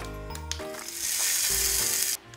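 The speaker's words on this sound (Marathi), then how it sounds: "आणि ही जी फोडणी आहे याच्यामध्ये आपण टाकून देऊया।" Hot spiced oil tempering poured over chutney, a short close sizzle that rises into a loud hiss for about a second before cutting off, with soft music underneath and no talk.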